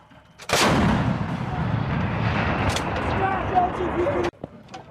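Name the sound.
M777 towed 155mm howitzer firing live rounds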